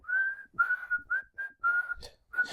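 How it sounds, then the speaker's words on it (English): Someone whistles a short melodic tune, a run of clear, steady notes with small pauses between phrases, close by. "Whistling that tune."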